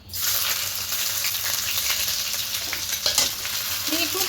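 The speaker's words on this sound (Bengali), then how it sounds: "এবার যে এখানে কুচনো রেখেছিলাম আদা রসুন কুচি এবার এটা এখানে দিয়ে দেবো" Chopped ginger and garlic dropped into hot oil for a chicken dish, an instant loud sizzle that settles into steady close frying with occasional stirring clinks and scrapes.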